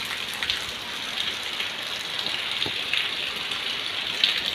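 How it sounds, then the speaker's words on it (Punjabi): Steady rain falls outdoors beside a paddy field in rural Punjab, a soft, even hiss of drops with a few brief louder patters, close by and unbroken, with no voices. "ਇਹ ਮੀਂਹ ਲੈ ਪਿਆ"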